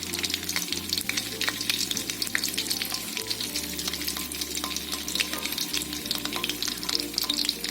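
Steady, crackling sizzle of fish frying in hot oil, dense popping and spitting that continues without pause, close up, with no voices.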